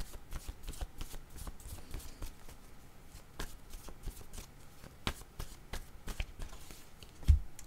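A tarot deck shuffled by hand at close range, soft papery slaps and riffles in an irregular rhythm, ending with a sharper knock, with no talking.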